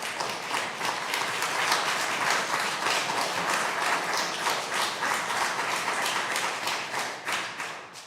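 An audience in a congressional oversight hearing room on Veterans Affairs accountability breaks into loud, sustained applause, a thick continuous patter of many hands that holds steady for several seconds.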